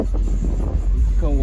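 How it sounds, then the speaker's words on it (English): Steady low wind rumble buffets the microphone throughout, with faint voices and a brief tonal whine near the end, outdoors at a car show. "It is kind of windy."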